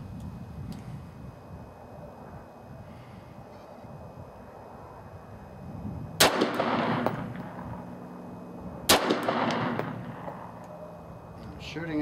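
Norinco NP-17 9mm pistol fired outdoors, two sharp distant-sounding shots several seconds apart over a low background rumble.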